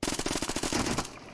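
Rapid bursts of automatic gunfire in PUBG Mobile, loud and close, rattling steadily for about a second before cutting off.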